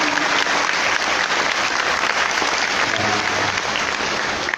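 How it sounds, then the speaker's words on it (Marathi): A kirtan audience applauds loudly and continuously, a thick wash of many hands clapping at an even level throughout, with a faint low murmur of voices underneath near the end. "तुमच्या टाळ्या ऐकू येत नाही वाजवा"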